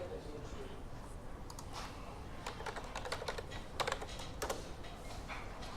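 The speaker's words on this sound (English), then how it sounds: "So I'm going to type in weapons," Typing on a computer keyboard while searching an asset store for weapons: irregular bursts of faint key clicks, clustering toward the end, with quiet room tone between.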